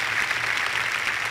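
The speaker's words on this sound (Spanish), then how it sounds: "Denle un fuerte aplauso al Señor." Church congregation giving a loud round of applause to the Lord during a Spanish-language service, dense steady clapping filling the room briefly.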